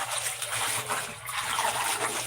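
Rainwater flows steadily on a rainy morning, a continuous broadband gushing and trickling that stays close and fairly loud throughout, with no voices over it.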